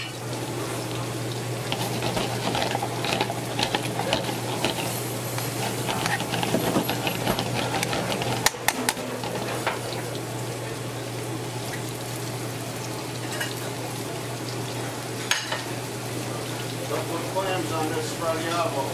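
Beef tips simmering in a Marsala wine sauce, a steady bubbling and sizzling hiss that runs throughout, with someone talking over it.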